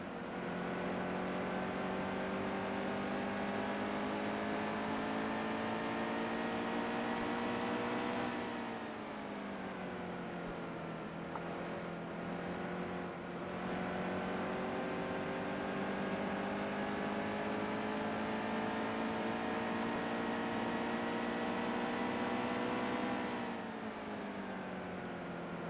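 Simulated NASCAR Xfinity race car engines from NASCAR Heat 2 drone steadily and loudly throughout, a dense layered roar with pitch dips and climbs as the cars lift and accelerate around the track in traffic.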